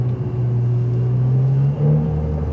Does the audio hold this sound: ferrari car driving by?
yes